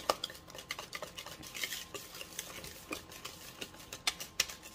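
Strawberry cake batter from a box mix is whisked by hand in a bowl, making quick, quiet, repeated ticking and scraping strokes of the wire whisk.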